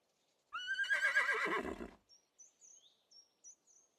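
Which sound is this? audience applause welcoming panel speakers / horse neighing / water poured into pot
horse neighing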